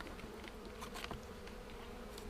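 Honeybees buzz at a beehive in an apiary, a steady low drone with a few louder passes as single bees fly close, faint overall and with no voices.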